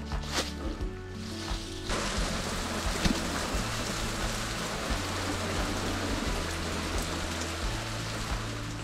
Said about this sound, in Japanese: 雨が結構降ってきちゃいました